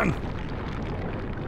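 A loud, dense rumbling blast from an explosion in the video game Super Luigi Galaxy fills the short moment, holding steady before a brief burst at the end.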